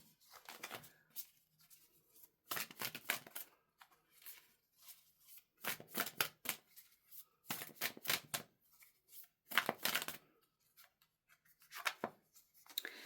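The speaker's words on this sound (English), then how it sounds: "Let me pull the rest of the cards" Tarot cards shuffled and pulled from a deck, a run of quick papery riffles and slaps in short bursts with pauses between, close and fairly quiet, with no talking.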